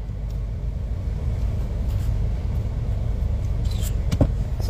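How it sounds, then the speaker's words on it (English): A water truck pulls in, its heavy engine a steady low rumble with no talk, swelling slightly near the end as it draws closer. "See the water truck just come people"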